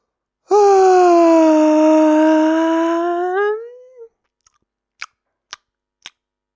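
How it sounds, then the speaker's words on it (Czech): A piglet in a bedtime audio story gives one long, loud, drawn-out yawn lasting about three and a half seconds that slowly fades. A few soft, brief clicks follow in near silence. "pak už jen sladce zívnul."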